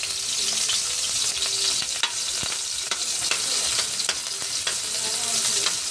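Onions sizzling and frying in a pan for a Filipino lunch dish, a steady close hiss with occasional stirring clicks and scrapes throughout, no talking.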